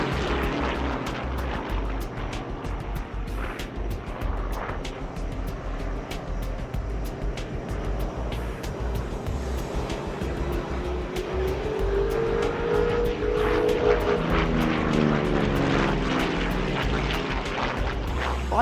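A Corsair propeller fighter plane flies at an airshow, its piston engine a loud, steady, rough drone throughout that swells and shifts in pitch partway through as it passes.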